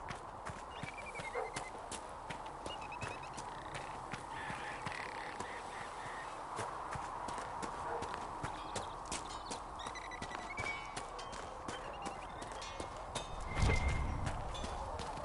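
Horse hooves clip-clop at a steady walking pace in the video game Dragon Age: Inquisition, with repeated clear hoof strikes over a soft ambient bed and a louder thump near the end.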